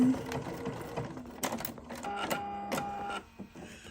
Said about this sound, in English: I'm just going to give it a couple little back stitches and cut that